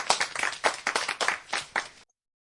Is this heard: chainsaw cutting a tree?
no